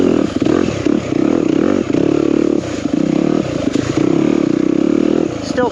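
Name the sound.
2021 Yamaha YZ250FX dirt bike engine while riding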